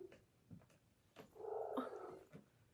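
A pet cat named Big Boss purring and vocalizing softly at close range, with a louder rumbling stretch in the middle of a short quiet moment.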